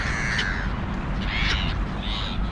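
Several crows caw in short harsh bursts, one near 0.4 s, a louder pair around 1.5 s and another near 2.2 s, over a steady outdoor rumble from a street setting.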